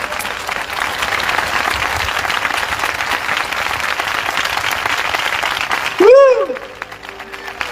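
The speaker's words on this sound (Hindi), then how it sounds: "आइए यीशु के लिए जोरदार ताली बजाएंगे।" A church congregation claps and applauds for Jesus in a dense, sustained ovation, loud and close. A voice shouts over the clapping near the end.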